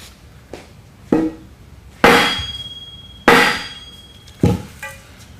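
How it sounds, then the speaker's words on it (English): A 4x4 wooden block strikes the upper spindle of a CS-1 sifter during a rebuild, giving five sharp, loud knocks with a ringing metallic clang, spaced roughly a second apart, near and with no talk. "Then what we're going to do is hit it with a 4x4, and what that'll do is free up the upper spindle."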